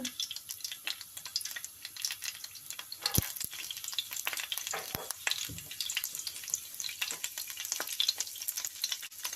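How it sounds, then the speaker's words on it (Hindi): A steady, close sizzle of crushed garlic and ginger frying in hot oil in a pan, with occasional stirring clatter and scrapes, no talking. "और जिंजर क्रश किया हुआ, इसको थोड़ा सा फ्राई करेंगे ताकि कच्चेपन की स्मेल ख़त्म हो जाए।"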